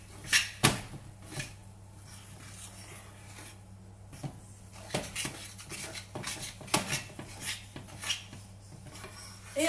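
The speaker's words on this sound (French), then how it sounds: "Et on mélange cette pâte." A spoon rubs and scrapes around a bowl as dough for French appetizer bites is mixed, giving a soft, continuous rasping with repeated clinks against the side, close by and fairly quiet.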